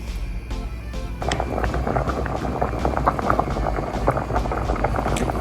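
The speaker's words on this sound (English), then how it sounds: "So I'm gonna let this boil and then we will continue the video." Pot of potatoes in salted water coming to a boil: a close, continuous bubbling and rolling simmer that swells after the first second and keeps churning steadily, with no voices.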